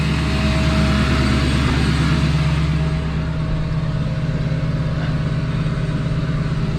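A Duramax LBZ diesel pickup engine runs loudly after a cold start without glow plugs, a heavy steady rumble with a constant clattering drone, close by and uninterrupted throughout.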